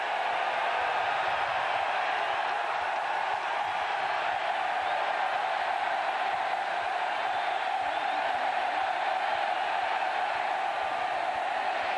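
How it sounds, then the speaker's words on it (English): Steady stadium crowd roar at the Cotton Bowl, a college football game between Notre Dame and Texas A&M, a dense continuous wash of distant voices with no clear cheers or peaks, faint and unbroken throughout. "crowd noise will be a factor for the young quarterback, Shea Morenz."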